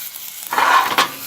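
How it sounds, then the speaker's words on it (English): Onions, garlic and ginger sautéing in olive oil for a carrot ginger turmeric soup, a soft steady sizzle that swells briefly as the pan is stirred, close and alone. "We're going to saute the onions until they're a little translucent and they just barely start to caramelize."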